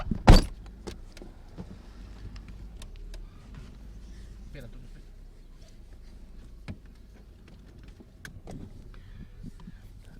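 Car interior during a slow drive through Arroyo de la Luz, with a steady low road rumble and scattered small clicks and knocks, while a loud thump opens the clip.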